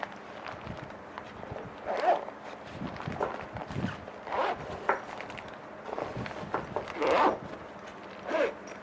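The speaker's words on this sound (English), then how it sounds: "after use, you just pack it like this, place it here, and zip it up." A first aid kit bag being zipped shut with a few quick zipper pulls and rustling as it is packed, close and fairly quiet with no talking.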